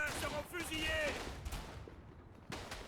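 Gunfire rings out on a First World War battlefield in Verdun, with scattered rifle shots and distant crackling volleys under shouted voices, a sharper report near the end.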